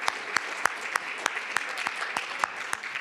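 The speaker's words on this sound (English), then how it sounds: "can we just have a round of applause for that last panel?" A room full of attendees at an International Women's Day forum applauds the preceding panel, steady crowd clapping with a few sharp, close individual claps standing out over the continuous wash of hands.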